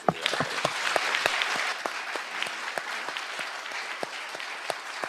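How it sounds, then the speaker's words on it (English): A round of applause from the audience at a Library and Archives Canada collection launch: a burst of loud claps at the start, then sustained, moderately distant clapping with scattered distinct claps throughout. "I want to do another round of applause."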